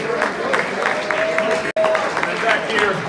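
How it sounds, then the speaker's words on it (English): A memorial gathering applauds drummer Phil Potter with steady crowd clapping and a background wash of noise. A sharp dropout cuts the sound near the middle, and faint talk sits underneath. "So let's give Phil some extra applause."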